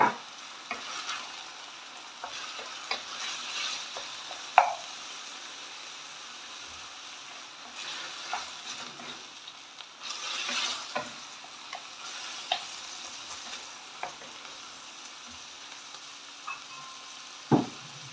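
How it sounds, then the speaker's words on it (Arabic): Chicken frying in a pan over browned onion with garlic, a steady sizzle broken by frequent scraping and clicking from stirring, some louder knocks standing out along the way. "هاد البصله هادي تشحرات شويه، رمينا عليها الدجاج"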